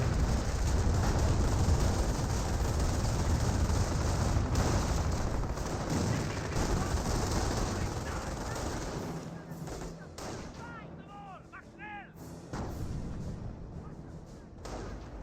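Artillery barrage in the Company of Heroes real-time strategy game: a dense roll of rumbling blasts and gunfire that fades through the middle, then returns with fresh bursts near the end.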